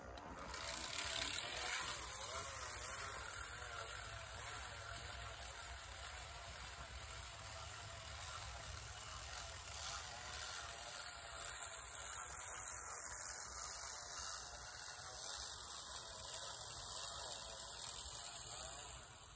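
A hand-cranked broadcast spreader throwing urea nitrogen fertilizer over a fall food plot, a steady whirring, ratcheting mechanical churn that runs continuously and fairly close.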